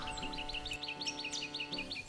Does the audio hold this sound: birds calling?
yes